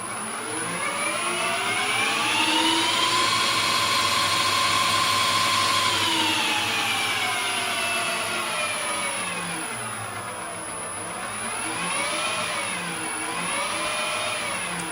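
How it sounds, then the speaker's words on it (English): A Harrison lathe driven through a variable frequency drive running up to speed, its motor whine rising and falling in smooth sweeping tones, loud and close, with no talking. "Revving up my lathe."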